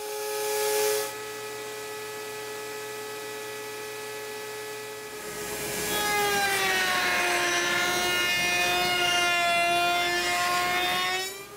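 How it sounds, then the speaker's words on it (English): A router table fitted with a half inch round over bit hums at a steady pitch, then the note rises and sharpens into a loud whining, harmonic-rich cut as the dowel stock shapes, continuing for several seconds before a brief drop at the end. "I'm going to pull out my router table and I'm going to use a half inch round over bit to make the dowels."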